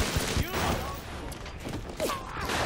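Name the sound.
enemy machine gun fire in video game Bioshock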